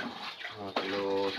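Water runs and splashes into a container as rice seeds are soaked, a steady gushing pour with a brief surge midway, close and moderately loud, no speech.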